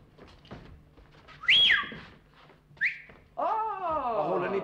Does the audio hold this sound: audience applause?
no